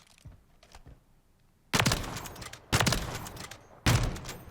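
Three loud, sharp sniper rifle shots ring out about a second apart at the firing range in Modern Warfare 3, a video game, each a broadband crack with a brief decaying tail, after a few softer faint thuds.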